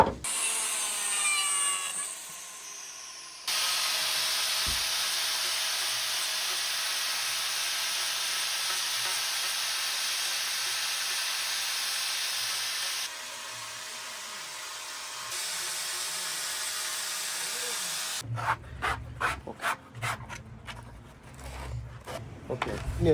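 Kashmir willow blade of a tennis-ball cricket bat being cut and shaped by hand, with steady, loud rasping and sawing strokes of wood that end in a burst of choppy, rhythmic scraping.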